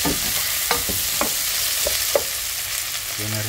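Carrots and basil are stir-fried for pancit bihon, a steady sizzle with repeated scraping strokes of the spatula close by, ending in a brief tonal scrape.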